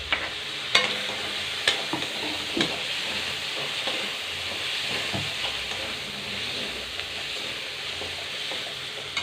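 Tomato tossed into hot oil for a native country chicken pepper fry, sizzling and frying steadily with spoon stirring and scraping clicks throughout; no talking.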